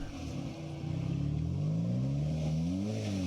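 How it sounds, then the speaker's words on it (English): A Škoda 4x4 with an aftermarket exhaust revs while off-road on a muddy trail, its engine note climbing and wavering over a few seconds, fairly close and loud. "This one also sounds, got a little bit of an exhaust on it."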